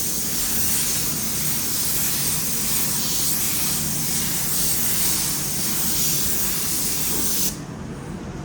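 A cheap spray gun bought on Amazon lays down a coat of paint with a loud, steady hiss. The hiss runs continuously, then thins out slightly near the end.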